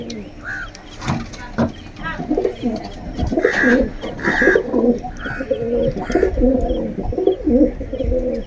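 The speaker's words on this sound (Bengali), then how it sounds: "জল খেয়ে নেওয়ার পরে কিছু পায়রা আজকে ওড়াবো বিকেলবেলা" Several pigeons coo close by in repeated low, throaty phrases that overlap one another, with a few scattered knocks and rustles around them.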